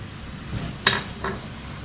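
A utensil mixing milk and spices in a mixing pan makes a soft swishing sound, with two distinct metallic clinks against the side, quiet and brief, with no talking.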